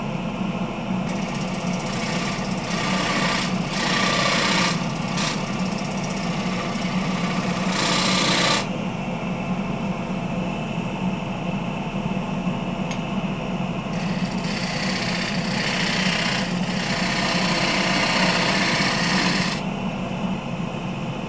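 A wood lathe spins a punky, wet spalted alder bowl while a spindle gouge cuts, giving a steady motor hum with rough scraping bursts that come and go over about twenty seconds, close and fairly loud.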